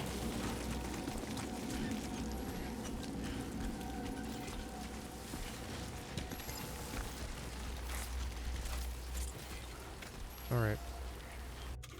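Timefall rain in Death Stranding 2, a steady hiss of rain falling throughout under a low rumble, with a brief spoken word near the end.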